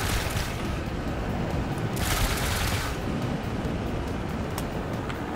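Rapid bursts of gunfire come from a gun on a large aircraft in the building game Trailmakers, a dense continuous rattle with brighter surges, loud and unbroken over several seconds.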